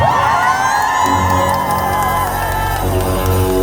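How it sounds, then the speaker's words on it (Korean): Concert audience at a show in Incheon cheering and whooping loudly, a dense roar of many shouting voices with high yells rising over it, continuous and close. "여러분 찐 박수 부탁드립니다"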